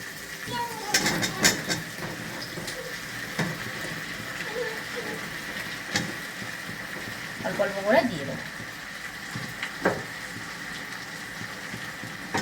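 Soft vegetables tipped into hot oil and spices, cooking for a vegetable pachan dish, give a steady low sizzle with scattered clatters of utensils throughout, fairly close and moderate in volume.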